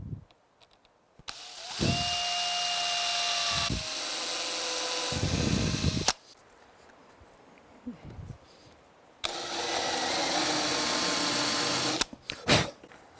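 Cordless drill boring holes and then driving screws into a router fence, probably a wooden one. Several loud whining bursts lasting a few seconds each, separated by short quiet gaps, with a brief clatter near the end.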